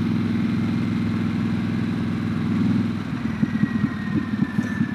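Harley-Davidson Sportster S engine rumbling steadily with a low, throbbing idle, then breaking into uneven pulsing bursts near the end, close and loud with no talking.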